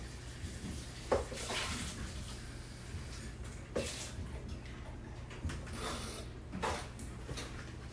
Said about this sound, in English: Rinse it out.